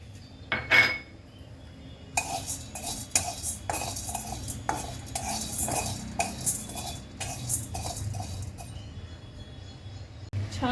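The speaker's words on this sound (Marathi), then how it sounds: "छान डाग पडेपर्यंत भाजायची हरभरा डाळ." Chana dal roasting in a pan on low heat, a spoon stirring and scraping against the metal in repeated close clinks and scrapes over a faint background hiss.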